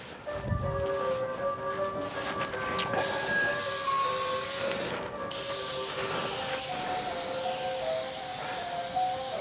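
An aerosol tin of web fix adhesive sprays onto foam for a leather dining chair seat pad, giving a loud continuous hiss broken by a short pause, with no talking.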